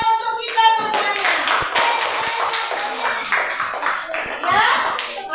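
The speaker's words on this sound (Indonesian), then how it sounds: "kasih tepuk tangan untuk kita semuanya" Schoolchildren and parents in a classroom clap their hands together in quick, loud, uneven rounds, with overlapping voices and a brief tonal note at the start.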